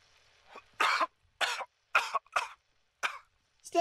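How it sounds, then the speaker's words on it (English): A character in the Fallout 4 video game coughs repeatedly: a string of six or seven harsh, close coughs in irregular rhythm, with short silences between them. "Stop coughing!"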